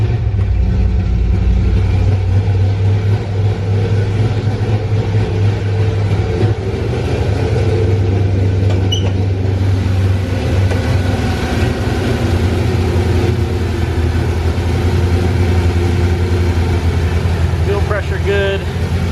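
Classic Mustang with a Coyote engine swap idling steadily, a loud, deep, continuous rumble close by with slight wavering throughout and no rev spikes.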